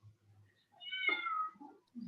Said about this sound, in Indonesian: maaf ya ada suara kucing